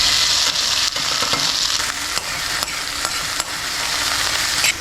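A green chili goes into hot oil in a pan and sets off a loud, steady sizzle. Occasional stirring scrapes cut through the frying noise, and no one speaks.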